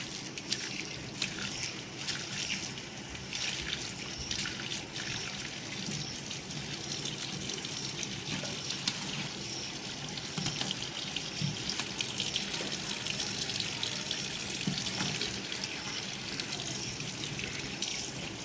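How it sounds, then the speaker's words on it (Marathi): Tap water runs steadily into a basket of turmeric being washed by hand at a sink, a continuous splashing trickle with soft sloshing and no voices. "वरतून नळ सुरू करून द्यायचा आणि हे बघा अशी ही जवळजवळ धुवून घ्यायची"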